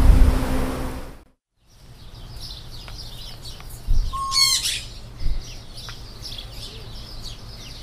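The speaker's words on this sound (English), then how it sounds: "there's an aviary with lots of birds in it" Birds in an aviary behind a fruit stand squawk and chirp in repeated calls, with one sharp trilled burst in the middle, over steady background noise after a loud opening rumble.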